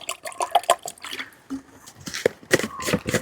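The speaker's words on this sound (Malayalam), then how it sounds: "ഇതിനകത്തോട്ട് അതിൻ്റെ 2 ഇരട്ടി വെള്ളം, ഏകദേശം ഇവിടെ വരെ 2 ഇരട്ടി വെള്ളം ചേർത്തു" Water is poured into blended aloe vera liquid to dilute it to about twice its volume, giving sporadic close splashing and gurgling bursts that rise and fall.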